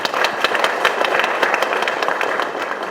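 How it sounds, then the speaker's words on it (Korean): Applause from an audience at a Korean party's joint campaign launch rally for a general election, a loud, dense, steady clapping that runs throughout. "박수 부탁드리겠습니다"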